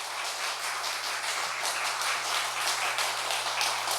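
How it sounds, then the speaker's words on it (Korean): Congregation clapping in a church service, a steady wash of many hands applauding throughout, moderately loud with a faint low hum underneath. "박수 우리 한번."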